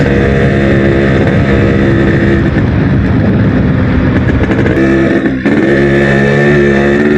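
Two-stroke Yamaha RX135 motorcycle engine wound out at full throttle, a loud, close, sustained buzzing rev that climbs in pitch, briefly dips as if shifting, then pulls again, with no talk.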